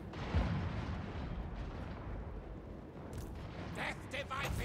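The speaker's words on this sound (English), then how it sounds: "Oh, the mortars." Mortar barrages in Total War: Warhammer 3 rumble as low, booming impacts under a dense battle din, with a brighter burst near the end.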